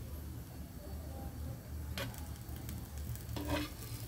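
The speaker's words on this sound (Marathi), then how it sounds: "थोडंसं पॅनला तूप लावून घेऊया आणि आपला पराठा त्यामध्ये टाकून देऊया" Paratha frying in ghee on a hot pan, a steady soft sizzle with faint scraping and two brief louder clatters near the end, close by and without talk.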